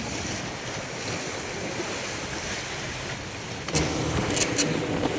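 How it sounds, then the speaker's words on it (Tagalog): Heavy ocean surf roars continuously with strong wind buffeting the microphone, a constant wash of rough water at sea on a fishing trip. "Laki ng alon."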